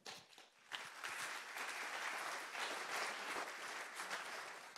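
An audience at a conference opening dialogue gives a panel speaker sustained applause, a dense, even wash of clapping that starts abruptly after a short pause and holds steady throughout, fairly quiet and distant.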